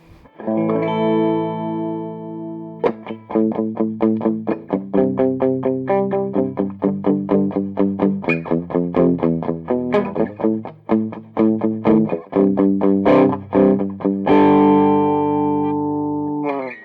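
An electric guitar played through a Legendary Tones Mr. Scary George Lynch tube amp mod, turned down, rings out in clear melodic phrases: sustained notes, quick picked runs and a held chord at the end, with no talking.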